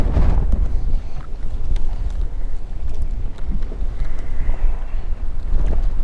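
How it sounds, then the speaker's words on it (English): Strong wind gusting over a lake while fishing from a boat, a continuous low buffeting roar against the microphone with water slapping faintly underneath, steady throughout with no voices. "This wind is something."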